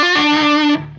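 Distorted electric guitar plays a riff an octave higher, a brief, loud, buzzing sustained note that changes pitch once and then cuts off sharply, near and alone.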